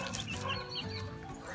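A hen and her chicks cluck continuously at close range, a dense, busy layer of short calls with no talking.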